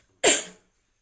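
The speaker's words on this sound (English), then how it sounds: "Don't mind me coughing," A single short, sharp cough, close and clear, followed by silence.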